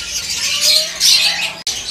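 African lovebirds, blue dilute and normal opaline, give a run of bright, close chirps and squawky calls, broken by one sharp click near the end.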